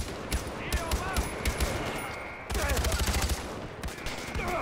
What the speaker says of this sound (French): Oh, c'était un coup de feu.